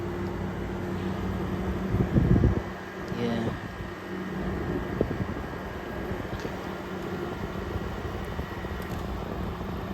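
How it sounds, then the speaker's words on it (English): A 2023 GE 5,000 Btu window air conditioner hums steadily with a low fan drone, its compressor cutting off early on while the fan keeps blowing evenly at close range. "the compressor is turned off now."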